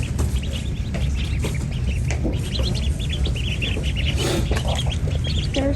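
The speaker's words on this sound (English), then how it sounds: "Little baby ducks." Baby ducklings and chicks for sale peep constantly, a dense chorus of small high chirps over a steady low hum, close and lively with no talking.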